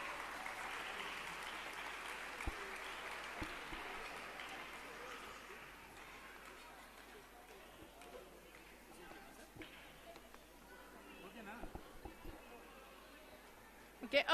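Parents at a school orientation programme applaud softly for children being named, a faint, sustained patter of clapping from across a hall that thins out over time, with voices audible beneath.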